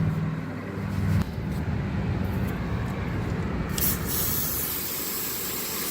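Cleaner sprayed from an aerosol can onto a paper napkin beside a 1997 Acura Integra's throttle body, a steady hissing spray lasting several seconds over low engine and outdoor background noise.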